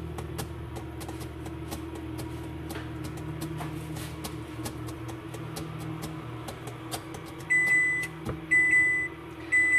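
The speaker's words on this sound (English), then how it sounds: "the oven is preheated, so I guess that's going to be our little ding" Home kitchen oven signalling that preheating is finished with a short series of electronic beeps near the end, after a quiet stretch of low appliance hum.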